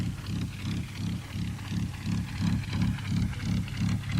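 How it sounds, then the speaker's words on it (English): A Rolls-Royce Merlin engine on a warbird idles at an airshow, a steady low throbbing rumble with an even pulsing rhythm, loud and close, with no voices over it. "that gorgeous sound of a Merlin engine just ticking over"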